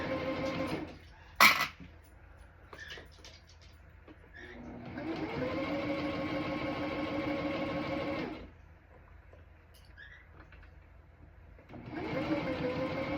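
A sewing machine stitching down quilt sashing in quilt-as-you-go work, a steady motor whir running in long passes with a brief stop midway and a pause near the end, close and clear with no talk.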